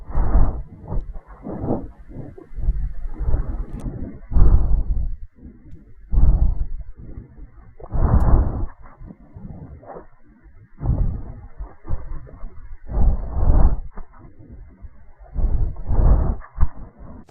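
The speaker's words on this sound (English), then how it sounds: "The other, more important breathing noise at the door has been a great source of confusion for many people." Heavy, raspy animatronic breathing at the bedroom door in the video game Five Nights at Freddy's 4, coming in repeated loud pulses about every two seconds with short gaps between them, close and alone with no talking.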